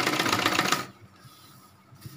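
A sewing machine stitching the seam of palazzo pants runs in a fast, loud mechanical rattle for under a second, then stops, leaving faint handling noises.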